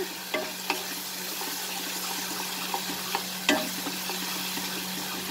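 Dry ground spices (coriander, cumin, turmeric and Kashmiri red chili powder) sauté in a pan with a faint, steady sizzle, broken by a few sharp ticks and clicks of stirring.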